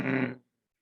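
A person voices a short, rough growl imitating a dog, one sustained guttural burst of under half a second that cuts off into silence, made during a yoga breathing exercise.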